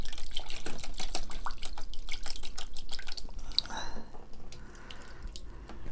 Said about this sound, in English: I'm just gonna rinse it a little bit more.